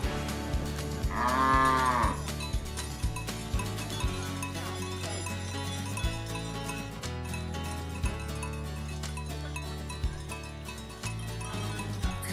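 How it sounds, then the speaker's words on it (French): Cows moo in an alpine pasture in the Dolomites, one long loud low moo near the start, heard over steady music playing throughout. "il y a plein de vaches."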